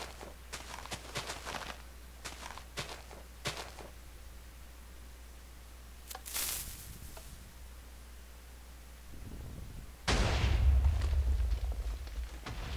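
TNT cannon blast in Minecraft: scattered footstep-like clicks and a brief burst, then a sudden deep boom with rumbling aftermath near the end.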